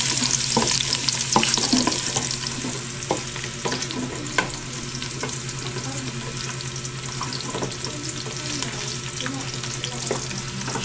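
Ginger and crushed garlic sizzle steadily in hot oil in a pan, with scattered scrapes and taps of a stirring utensil and a faint running-water hiss behind, close and continuous with no talk.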